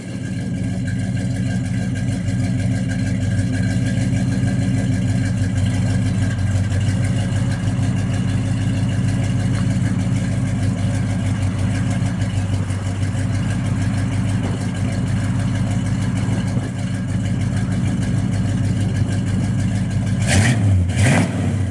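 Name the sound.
V8 muscle car exhaust revving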